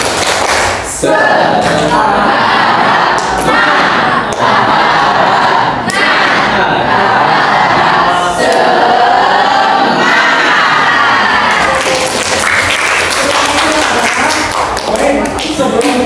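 A classroom group claps and chants in rhythm, a loud, dense crowd of voices and hand claps in a school lesson, with beats and shouts rising toward the end.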